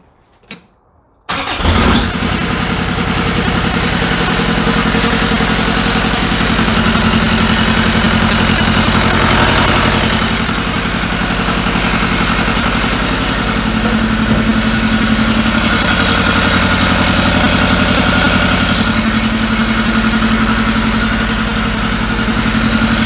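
A Kubota-powered Willys MB engine cranks and catches after a short pause, then settles into a loud, steady, rumbling idle through a new homemade exhaust that continues for about twenty seconds.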